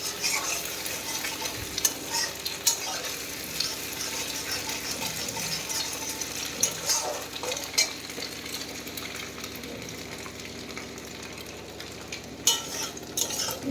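Beaten egg frying with onions in a pan for chowmein gives a continuous loud sizzle, with stirring clatter and scraping throughout and a few sharp knocks from the utensil.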